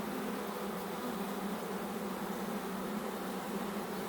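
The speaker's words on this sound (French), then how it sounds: "Ça c'est une abeille qui fait du rabattage." Honeybees from a swarm being gathered by hand hum in a steady, dense, close buzz that lasts the whole stretch, with no talk over it.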